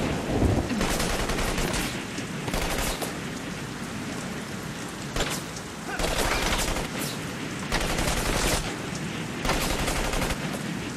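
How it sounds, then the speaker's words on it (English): Dense, continuous gunfire fills a firefight in The Saboteur video game, loud sustained bursts like automatic weapons layered over a rain-like hiss. No clear talking. "Shooting started."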